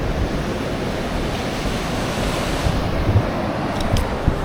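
Steady roar of ocean surf breaking at Antervedi beach where the Godavari meets the sea, continuous and close with wind noise on the microphone.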